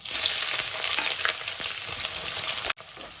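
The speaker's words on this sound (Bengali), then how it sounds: "এবারে এই পেঁয়াজগুলো আমি দিয়ে দিলাম।" Onions sizzle and fry steadily in a hot pan for a Bengali methi chicken dish, a dense continuous crackle close by with occasional stirring scrapes, cutting off briefly near the end.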